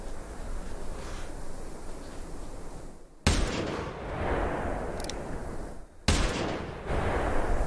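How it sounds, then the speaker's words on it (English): Pistol shots fired at a bison in the hunting video game theHunter Classic, two sharp loud reports several seconds apart, each followed by a fading rumble over steady outdoor ambience. "Try and hit it with the pistol."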